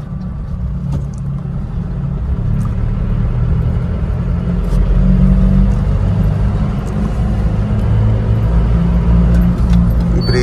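A Mahindra Bolero diesel SUV with high mileage is heard from inside while driving, with a steady, loud low rumble of engine and road noise that stays constant throughout.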